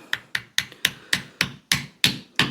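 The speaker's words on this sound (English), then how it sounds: "Got a hammer." Nine sharp hammer strikes at a steady pace drive a poplar wedge into the eye end of a wooden axe handle, each blow a close, crisp knock with a short decay and no talking.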